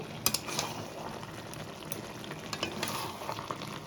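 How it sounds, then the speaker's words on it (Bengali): Bottle gourd and egg curry with coriander leaves being gently stirred in a pan, a low bubbling sizzle broken by light scraping taps of the spoon, fairly quiet and with no voices. "দিয়ে আস্তে করে একটু নাড়াচাড়া করে দেবো"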